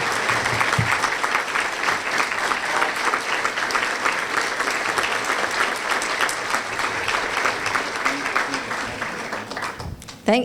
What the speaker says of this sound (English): it's very nice when I finish and everyone gets up and applauds